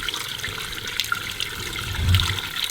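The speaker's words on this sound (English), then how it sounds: "All right, let's pour some water in." Water poured onto a newly built patio floor runs and gurgles toward a drain, a close splashing flow that swells louder near the end, with no talking.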